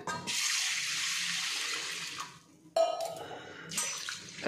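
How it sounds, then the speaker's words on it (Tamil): Water gushes steadily into a container of sago for about two seconds, stops, then pours again in shorter bursts, close and fairly loud. "தண்ணி ஊற்றி நல்லா ஃபஸ்ட்டு கழுவிக்கிடலாம்"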